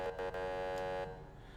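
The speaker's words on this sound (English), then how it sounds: "We have the temporary siren, just a little whoop whoop." A heavy-hauler truck in a modded driving game gives a brief emergency siren whoop, a steady harmonic wail that holds for about a second and then fades, loud and alone.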